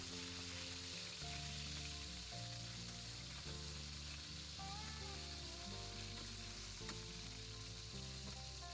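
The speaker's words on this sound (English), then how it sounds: "I'm going to flip the burgers one more time, and they are coming up looking delicious" Burgers fry in a pan with a steady, dense sizzle that runs unbroken throughout, close and even in level, with only faint clinks of handling underneath and no talking.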